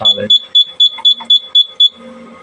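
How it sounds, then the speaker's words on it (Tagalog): A rapid series of sharp electronic trouble beeps from a fire alarm panel repeats in quick pairs, loud and close, with a brief voice at the start and end. "Ganito din yung tunog ng panel."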